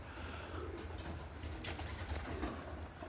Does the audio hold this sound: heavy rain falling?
no